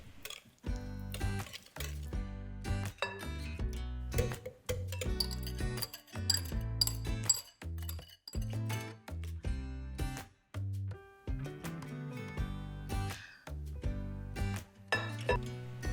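Egg yolks going into cookie dough mixed by hand in a bowl, with repeated clinks and knocks of a utensil against the bowl in an irregular rhythm, close and fairly quiet.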